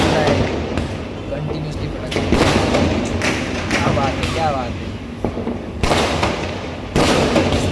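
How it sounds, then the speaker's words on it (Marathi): Firecrackers burst repeatedly in the distance during Lakshmi Puja, sharp cracks and dull thuds scattered irregularly, with people talking and kitchen sounds in the background. "आपले काय फटाके फुटतात"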